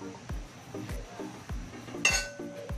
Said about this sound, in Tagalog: Takpan po ulit natin.